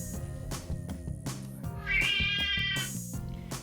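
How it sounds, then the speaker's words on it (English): A recording of a cat meowing is played back, giving a drawn-out, clear meow in the middle, heard over a background of toy-play music and faint sounds, with no talking. "We could play Nicky meowing for her"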